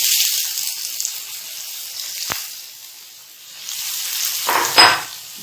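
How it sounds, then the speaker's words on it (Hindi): Chana dal and onions fry in hot oil, giving a continuous bright sizzle with a sharp tap and a louder rustling stir near the end. "मैंने इसको ऑयल में प्याज को इतना फ्राई किया है कि ये अब मैंने इसमें ये दाल ऐड करनी है।"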